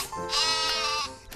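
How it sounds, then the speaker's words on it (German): Sheep bleat in one sustained, wavering call lasting over a second, fairly close and alone, with no voices over it. "Schafe."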